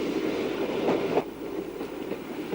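A British Railways train runs along the line between Moreton-in-Marsh and Leamington Spa, giving a steady rolling rumble with faint rhythmic clatter throughout, fairly close and continuous.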